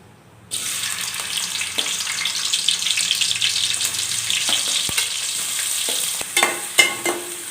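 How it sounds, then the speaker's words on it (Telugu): Onions hit hot oil and sizzle loudly and steadily in a pan, up close and unbroken, with a few clanks of stirring near the end and no talking. "ఆయిల్ వేడైన తర్వాత ఆనియన్ వేసుకుందాము"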